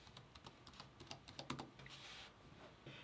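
Rapid, quiet key taps on a Chromebook keyboard while a PIN or password is entered at the account sign-in screen, a steady patter of clicks that trails off into faint background hiss.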